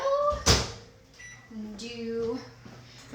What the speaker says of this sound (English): I'm gonna go pop it in the microwave